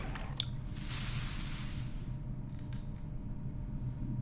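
In the point-and-click game The Last Door, liquids including vitriol spirit, oil and cyanide are poured onto a plate, giving a soft wet pour and fizzing hiss. A sharp tick comes first, then the hiss fades over a low steady ambient drone.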